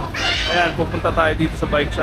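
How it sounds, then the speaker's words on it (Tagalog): A cat meows near a bike shop in Quiapo, Manila, its short calls coming through beside someone talking over busy street noise. "Ayan yung pusa oh."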